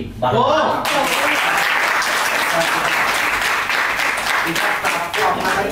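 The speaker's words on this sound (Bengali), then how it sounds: "যারা দেখছে মানে সাধারণ মানুষ, তাদের জন্য একটা জোরে হাততালি" Loud, sustained applause from an audience at a Bengali Durga Puja discussion event, dense clapping that swells at the start and holds steady for several seconds, with voices mixed in beneath.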